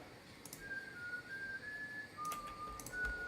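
A whistled tune from a classic Corona beer commercial, clear sustained melodic notes carried alone over a soft background hiss, with brief clicks between phrases.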